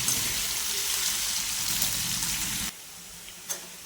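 Potato pieces for a crispy stir-fry cook in a covered pan with a steady, close soft sizzle and watery crackle that cuts out sharply near the end, followed by a faint clink.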